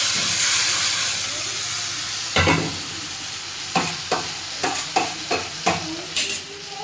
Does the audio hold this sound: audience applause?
no